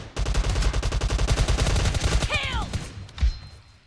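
Rapid automatic gunfire rattles in a dense burst in PUBG Mobile, close and loud, then cuts off, followed by a short metallic whir and a single thump.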